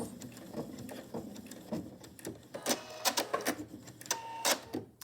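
A sewing machine runs a back stitch on a cloth face mask, giving short bursts of clattering needle strokes with brief pauses between them, close by and with no talking.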